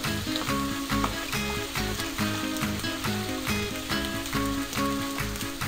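Meatloaf fries in a pan with a steady, close crackling sizzle, partly masked by rhythmic background music playing throughout.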